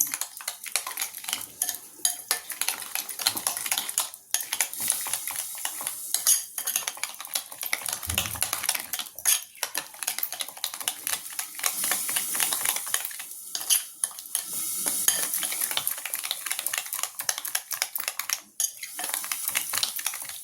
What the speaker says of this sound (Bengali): এরপরে আমি এটাকে ভালো করে ফেটিয়ে রাখবো, খুব সুন্দর করে এটাকে ফেটিয়ে রাখতে হবে একদম